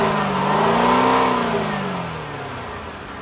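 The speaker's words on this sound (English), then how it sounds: "Let me rev it up a little bit." A 3.5-liter V6 in a 2011 Lincoln MKZ revs once, close by, climbing to a limited peak and then easing back toward idle.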